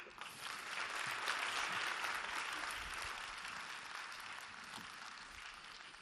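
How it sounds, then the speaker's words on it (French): Sustained audience applause at an alumni gala evening, a dense wash of clapping that swells early and holds steady before easing slightly, with no voices over it. "Je vous prie de l'applaudir."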